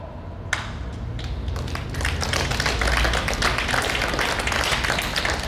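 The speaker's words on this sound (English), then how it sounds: "I hope you're applauding Mario" Audience applause at a speech, starting with a few scattered claps and quickly building into dense, sustained clapping from a crowd of listeners.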